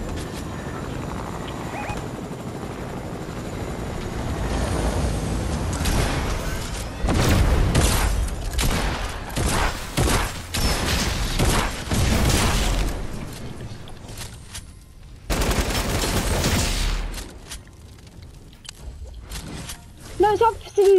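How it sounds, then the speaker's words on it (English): Gunfire in Fortnite, bursts of loud shots and booms in clustered volleys with pauses between, mixed with players talking excitedly. "They're shooting us."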